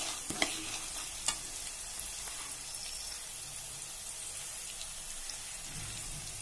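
Dry red chilies frying in oil for vermicelli upma, a soft, even crackling sizzle with a few sharp pops near the start, quiet and close, and no one speaking.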